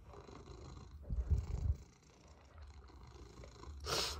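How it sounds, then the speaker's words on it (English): A pet cat purring close by, a soft low rumbling purr that swells in the middle and again near the end, with no talking. "Get that big old purr baby, aren't ya?"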